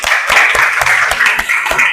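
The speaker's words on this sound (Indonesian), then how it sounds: "beri tepuk tangan dulu" Classroom applause from schoolchildren during an Islamic religious education lesson in Indonesia, with dense, steady clapping that fills the whole moment at a moderate level.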